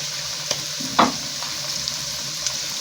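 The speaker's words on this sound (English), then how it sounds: "So I'm going to put in my meat." Beef goes into a pan of onions frying until translucent in a Kenyan home kitchen, giving a soft steady sizzle with a sharp clatter of stirring near the one-second mark and a few lighter taps.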